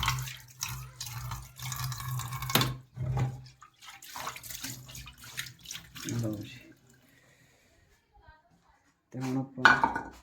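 Dishes being washed with soap and water at a sink in a home kitchen: splashing tap water, clinking pots and cutlery in bursts, with a person talking intermittently over the washing and a quiet pause near the end.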